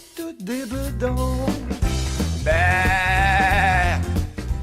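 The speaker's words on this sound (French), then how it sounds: "on a choisi d'installer des moutons d'Ouessant" Ouessant sheep, the world's smallest breed, bleat loudly and close by, several overlapping wavering cries following one another with one long sustained call.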